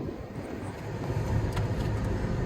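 A 2005 Pontiac Grand Prix on a test drive after an alternator swap, with a steady low engine and road rumble from inside the car, moderately loud and continuous with a faint click midway.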